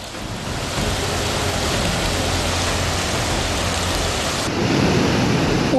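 Heavy monsoon rain in Maharashtra pours in a dense, continuous roar, with thunder rumbling beneath and the downpour swelling louder near the end.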